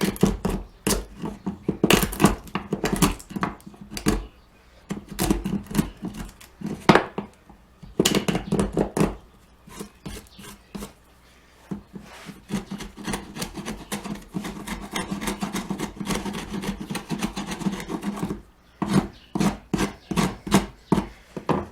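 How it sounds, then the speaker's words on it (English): A chisel breaking out and paring wood pieces to clean a half lap joint, a series of close, sharp scraping and knocking strokes in irregular bursts with brief pauses. "take my chisel, break all the pieces out"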